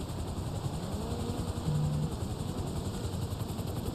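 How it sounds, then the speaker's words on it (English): A helicopter in GTA Online whirs steadily with a constant rotor drone and engine hum, close and continuous, with no talking over it. "I don't know whose, helicopter this is"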